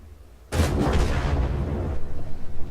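A single heavy tank cannon blast in World of Tanks, playing a 59-16 light tank, loud and booming with a long rumbling decay lasting about a second and a half before fading into low background noise.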